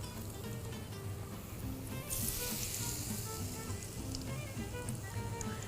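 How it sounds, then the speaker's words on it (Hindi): Potato and pea stuffed sandwiches fry in hot oil, giving a steady, dense sizzle that swells briefly louder partway through, continuous and close with no talking. "यहाँ पर मैं अभी तक सैंडविचेस फ्राई कर रही हूँ"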